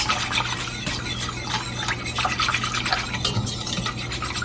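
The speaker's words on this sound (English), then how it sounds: "Just whisking so I can see all that's come together." A whisk scrapes and stirs through homemade cream of chicken soup in a pot, a quick rhythmic swishing with a low steady hum from the stove underneath.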